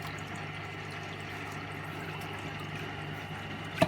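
A washing machine's drain pump pushes clear water out in a steady, even rush, with a constant gushing hum throughout and a single small knock at the very end.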